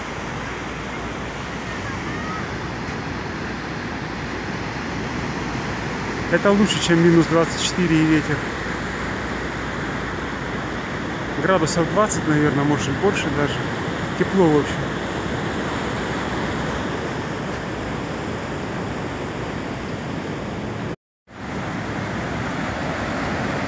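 Sea surf rolls onto Da Nang beach on a mild, drizzly, misty morning, a continuous broad wash that runs under a voice talking nearby.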